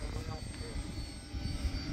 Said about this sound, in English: Some airplanes. Some helicopters.